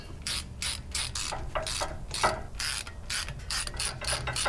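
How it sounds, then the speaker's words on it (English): Ratchet and socket clicking rapidly in quick repeated strokes as they back out the four bolts on a Jeep Gladiator differential cover, close up with no talking. "So I'm gonna go ahead and remove these 4 bolts."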